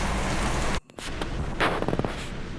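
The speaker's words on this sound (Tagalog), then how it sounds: "ang lakas na ng ulan eh" Heavy rain in Manila just after Typhoon Uwan: a dense, loud, steady hiss of downpour that cuts out for a split second, then returns with scattered close taps and patters.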